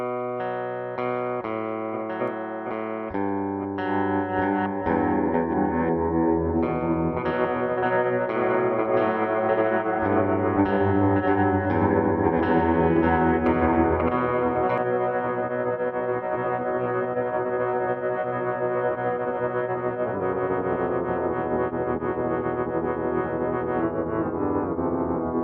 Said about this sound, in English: This is a very good example of the use of the freeze with the envelope.